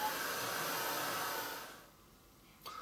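A hair dryer blows over a steampunk-style decoupaged treasure box: a steady, close airy whir for under two seconds, then it cuts off into near silence, with a faint click at the end.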